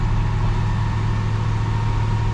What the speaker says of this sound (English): You'll hear your compressors kick on